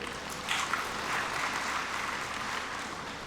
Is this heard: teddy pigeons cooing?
no